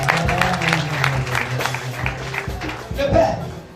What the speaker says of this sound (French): Acclame pour Jésus.